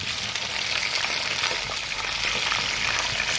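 Chicken hits browned onions in a hot wok, setting off a loud, dense, continuous frying sizzle close by with no talking.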